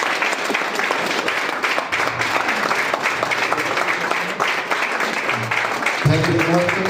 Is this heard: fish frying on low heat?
no